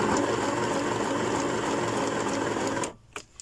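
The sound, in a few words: sewing machine stitching fabric tag onto page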